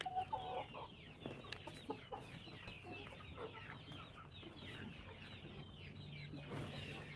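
Chickens on a small farm flock with baby chicks cluck and squawk in a busy, overlapping chorus, steady and fairly close, with scattered sharper calls standing out over the rustling yard.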